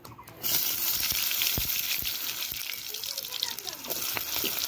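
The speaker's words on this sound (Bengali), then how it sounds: "ফোড়ন ভাজা হয়ে গেছে, তরকারিটা এবার ছেড়ে দেবো।" Papaya curry vegetables drop into hot oil tempered with cumin and a bay leaf, bursting into a loud, steady close sizzle with a few sharp crackles throughout.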